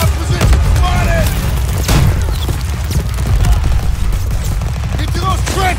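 Gunfire in the Call of Duty WWII Rhine battle, dense rapid bursts and booming shots over a low rumble, loud and continuous, with shouted voices in the background.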